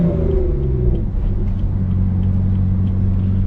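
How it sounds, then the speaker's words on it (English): BMW M3 engine with a manual gearbox rumbling loud and close through a gear change, a steady low drone with a brief dip mid-shift and no talking. "So you want to clutch in and change the gear."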